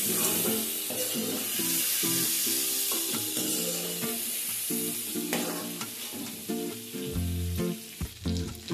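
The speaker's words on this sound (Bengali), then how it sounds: "চিংড়ি ভেজে নেওয়া হয়ে গেলে এবার আমি তুলে নিচ্ছি।" Fried shrimp sizzles steadily in a hot pan while being stirred and lifted out, with soft scraping and clinks of the utensil over a constant frying hiss.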